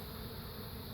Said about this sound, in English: a lot of new brood is emerging from the hive and foraging